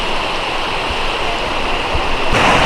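Cascading water near the Perito Moreno glacier in Los Glaciares National Park, a steady broadband rush that stays close and loud throughout, swelling slightly near the end.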